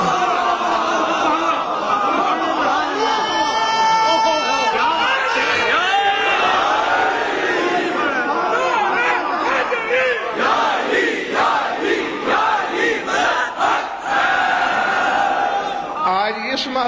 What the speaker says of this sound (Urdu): اس محلے سے نعرہ زیادہ لگ رہا ہے